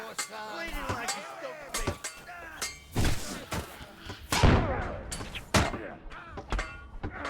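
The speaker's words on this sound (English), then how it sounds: "These hand cannons are fucking awful." Repeated heavy booming shots from video game hand cannons, loud and close, fired in irregular bursts with clanks and thuds between them.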